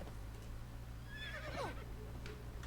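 A horse in the video game Conan Exiles gives a single mid-length whinny, close and fairly loud, over a steady low background hum, with faint hoof clatter.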